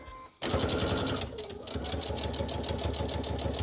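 A sewing machine stitching fabric for a candle wreath table decoration, starting abruptly into a fast, steady mechanical whir with rapid even needle strokes, fairly close.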